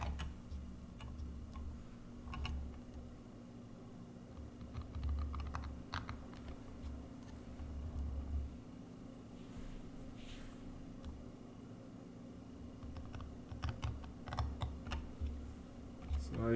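A knife cutting into a stone name seal, fine scratchy clicks and ticks in irregular clusters, faint and close, over a steady low background hum, with no talking.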